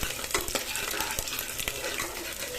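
Tempering sizzles in a frying pan while a utensil stirs it, with crackling frying noise and brief scraping strokes against the pan, close and steady, for a Tirunelveli-style urad dal rice.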